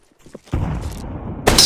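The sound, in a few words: grenade in video game Counter-Strike 2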